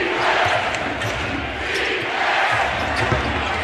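Crowd noise fills an NBA basketball arena during a Portland game with Dwyane Wade, a steady roar of spectators with basketball bounces mixed in throughout.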